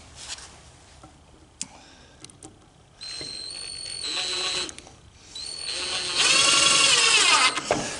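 A power drill drives screws into an I-beam sawhorse in two whining bursts, each climbing in pitch as the screw bites, with faint clicks and handling taps between them.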